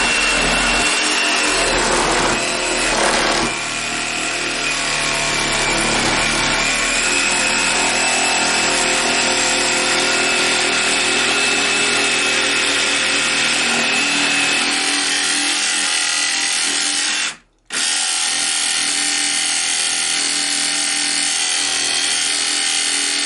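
A jigsaw saws through the wood of an old crib with a loud, continuous buzzing rasp that runs close up for most of the stretch, cutting out briefly near the end before starting again.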